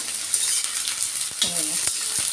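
Dried red chillies roasting in an iron pan, a close steady sizzle with a few light metallic clinks and scrapes of stirring.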